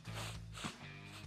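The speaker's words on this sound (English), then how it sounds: "You hear the sniffles?" A person sniffles through the nose a few times during a live sports news broadcast, with faint breathy snorts over background hum.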